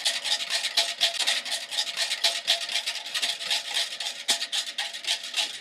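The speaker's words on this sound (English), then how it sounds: "It may take a little bit longer to whisk when you have a bulk container" A whisk scrapes and swishes rhythmically through chilled cranberry juice mixed with starch thickener in a bulk container, a steady brisk rasping churn with no talk.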